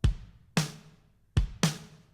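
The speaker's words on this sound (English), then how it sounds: "if we listen to the kick and snare first" A simple drum beat of kick and snare alternating, two hits then a pause and two more, dry and close with no other instruments.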